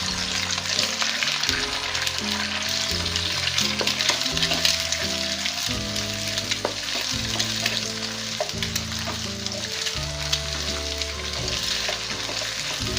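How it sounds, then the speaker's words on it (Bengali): Eggs fry in a pan with a constant loud sizzle and crackle, while a steady musical backing plays underneath throughout. "ডিমগুলো ভাজা হয়ে গেছে, এখন আমি নামিয়ে ফেলবো।"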